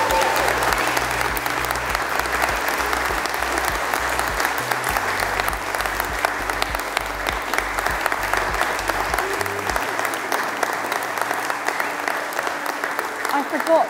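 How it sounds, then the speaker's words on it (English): Wedding guests applaud at an outdoor windmill ceremony, a dense, steady clapping from a crowd lasting the whole stretch at close range, with a low background hum and faint voices under it. "so we might need another round of applause"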